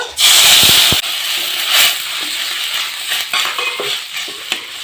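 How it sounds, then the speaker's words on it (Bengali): Water is poured into hot roasted semolina in a pan, causing a loud sudden hiss that settles into steady sizzling and bubbling, with a few clinks of a stirring spoon. "সুজিতে জল দিয়ে দিয়েছি"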